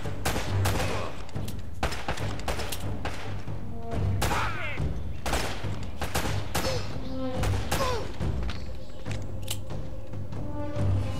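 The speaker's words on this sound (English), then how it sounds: "The shotgun in this game is the destroyer of worlds." Shotgun blasts in Uncharted: Drake's Fortune, a rapid string of loud, punchy close-range shots mixed with heavy thuds and other in-game gunfire, continuing steadily throughout.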